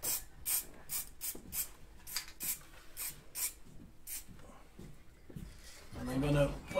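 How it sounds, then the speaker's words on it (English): Short bursts of layering spray hiss from an aerosol can onto a model river scene, repeated in quick puffs and then pausing. A low voice is faint in the background. "And then a bit of controlled layering spray."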